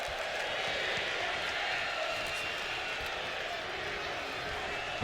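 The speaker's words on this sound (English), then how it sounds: "This crowd's yelling, we want tables." A crowd in the WWE 2K26 wrestling video game keeps up a steady roar and chant, with a commentator talking over it.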